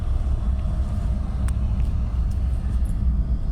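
A Vauxhall Corsa with its brake booster disconnected rumbles along on a test drive, its engine and road noise forming a steady low drone with a few faint higher clicks.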